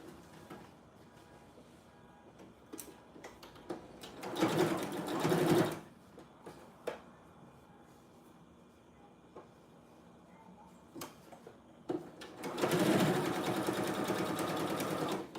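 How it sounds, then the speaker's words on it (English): A sewing machine stitches clothes in two loud bursts of rapid whirring, each a couple of seconds long, with quiet handling clicks and rustles between them. "I'm gonna be sewing."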